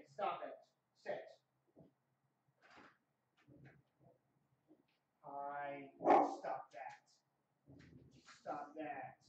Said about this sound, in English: Somebody's there looking to trick or treat, but that doesn't mean you should start barking.